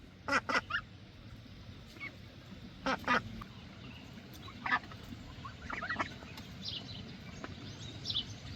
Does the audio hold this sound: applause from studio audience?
no